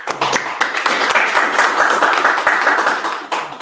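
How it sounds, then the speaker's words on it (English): Steady applause from a room of people, dense overlapping claps at close range lasting a few seconds before tapering off. "Give a clap for Nikos."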